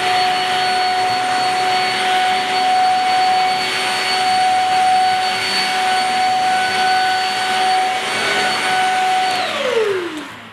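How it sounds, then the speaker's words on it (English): A Shark Rocket stick vacuum with its pet hair furniture attachment runs as a steady, loud whine with a high motor tone, holding level before the pitch drops sharply as it shuts off near the end. "we're going to try out the pet hair furniture cleaner and see how it does"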